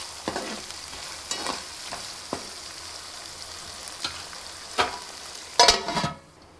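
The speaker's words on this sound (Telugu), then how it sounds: "ఇలా మంచిగా కలుపుకుంటూ వేసుకోవాలి అల్లం వెల్లుల్లి పేస్ట్ ఆయిల్లో" Ginger garlic paste frying in oil sizzles steadily while a spoon stirs it, with soft scrapes and taps against the pan and a louder clatter near the end.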